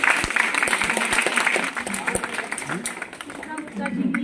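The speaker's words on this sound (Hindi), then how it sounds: "एक बार जोरदार इनकी तालियों के साथ स्वागत।" Audience applause at an International Women's Day celebration at a BJP office in Kathua, welcoming an honoree; a steady wash of clapping from a crowd that thins slightly toward the end, with talking mixed in.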